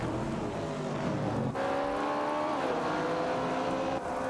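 Race cars roaring through an AI-driven racing video game, a Maserati Bora and a Porsche 906 among them, their engines whining steadily with rising and falling pitch as they shift gears, loud and continuous with no voices over it.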